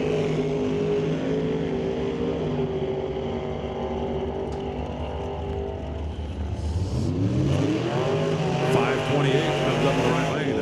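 Ford and Chevrolet Camaro drag race launch at an NHRA event, loud sustained engine roar with rising pitch as the cars accelerate hard, growing louder and rougher near the end.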